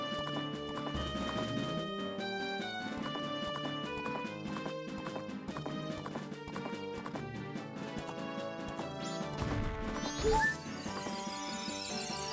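Horse hooves clip-clop at a gallop and a horse neighs near the end, set against steady game music in The Legend of Zelda: Majora's Mask on the ranch.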